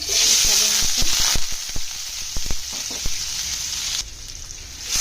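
Chopped onion hits hot oil in a pan for pizza bun filling, a steady bright sizzle broken by a few spoon knocks and stirring scrapes, close up with no talking.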